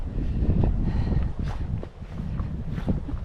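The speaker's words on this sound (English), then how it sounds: "It's a little bit windy." Wind buffets the microphone at a lakeside campsite, a steady rough rumble with gusty swells and small scattered knocks over about three seconds.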